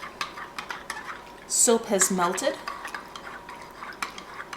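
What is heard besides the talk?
stirring homemade dish soap with washing soda in pot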